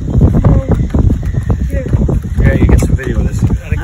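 Strong outdoor wind buffets the microphone in a steady, loud roar, with voices talking over it near the end.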